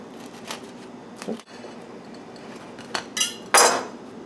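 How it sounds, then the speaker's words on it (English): A bread knife sawing open a cooled homemade bagel, a few short scraping strokes with crisp crusty rasps and a louder final crunchy cut near the end, close up. "Once your bagel becomes cool enough to handle, cut it open using a bread knife."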